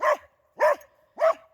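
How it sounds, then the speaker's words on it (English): A farm dog barks three times, each bark sharp, loud and close, spaced about half a second apart with quiet gaps between and no talk. "What's the crazy dog doing, Bandit?"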